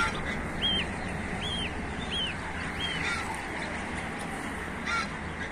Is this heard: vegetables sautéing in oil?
no